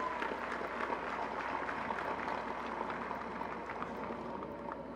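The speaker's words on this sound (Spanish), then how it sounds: "Un aplauso para Sandra, por favor." Crowd applause at an outdoor rally in Plaza Cívica, San Salvador, a steady, distant wash of clapping that holds evenly throughout at low level.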